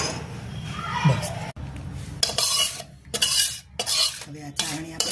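Sugar syrup, cooked to a thread stage, poured into a pan and stirred, with spoon scrapes and clinks against the metal in short bursts while a person talks over it.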